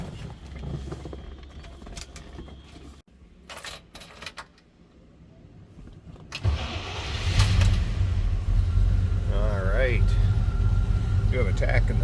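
A 1965 Chevrolet Malibu Sport Coupe engine cold-starts partway through, quiet shuffling before it, then settles into a loud, steady, rumbling idle while someone talks over it.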